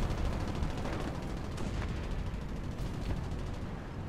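M82 rifle fire in a video game with Hellcat and Mustang aircraft: a dense, steady roar of gunfire with a few sharper cracks on top, loud and continuous, with no one speaking.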